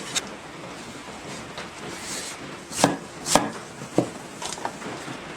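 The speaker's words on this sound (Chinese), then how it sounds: "酸菜给它切一下" A knife chops homemade pickled cabbage on a board, a few sharp, separate thuds spaced a second or so apart over a quiet background with faint scraping.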